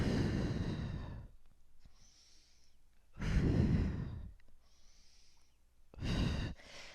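Three strong, breathy exhales, roughly every three seconds, come from a person during a Pilates exercise, each a close, audible whoosh of breath followed by quieter pauses.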